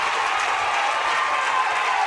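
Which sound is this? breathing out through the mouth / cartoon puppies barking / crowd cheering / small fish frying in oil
crowd cheering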